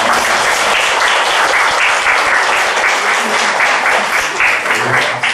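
A church congregation at a Wednesday evening worship service applauds steadily for several seconds, a dense, even wash of clapping hands filling the room with no break.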